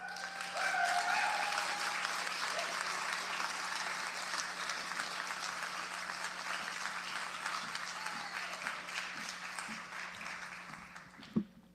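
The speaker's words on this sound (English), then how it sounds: "I want to give him a round of applause again" Sustained applause from a labor-conference audience after a speech, steady and fairly loud throughout with a sharp knock near the end.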